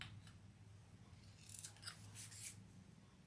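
Scissors trimming excess fabric off the side of a sewing project, with a few quiet crisp snips in quick succession, close and alone.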